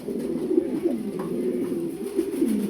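A fancy red pigeon on a breeding farm coos softly and continuously at close range, its low throaty rolls repeating with little else around.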